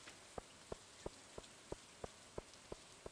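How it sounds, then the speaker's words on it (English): Rain falls in the video game Stardew Valley as a faint, even hiss. Soft regular ticks repeat about three times a second over it, and no one speaks. "At least it's raining."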